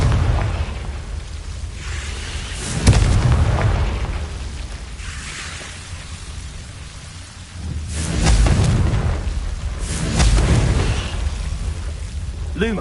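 Deep booming blasts from the Confringo spell in Hogwarts Legacy, several heavy rumbling explosions spaced a few seconds apart, each swelling and fading into a low roar.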